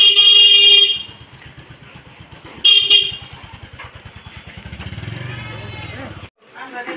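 A blue motorcycle idles and rides with a rapid, steady engine putter, loud and close, while a horn honks sharply at the start and again midway before the engine note rises.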